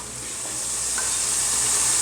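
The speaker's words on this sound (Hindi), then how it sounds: "2 से 3 मिनट हम इसे चिकन मसाले के साथ पकाएंगे मटरों को" Green peas cooking with chicken masala in a pan make a steady, close, bright sizzle and hiss that swells slightly over two seconds, with no talk.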